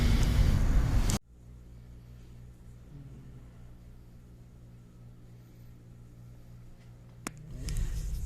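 A car's engine runs steadily inside the cabin, a low, even rumble that holds for several seconds after a brief loud burst at the start and swells again near the end.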